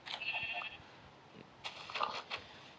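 Goats in the Minecraft video game bleat in short, bright calls, first one near cry and then a cluster of overlapping bleats, over quiet game background with no speech.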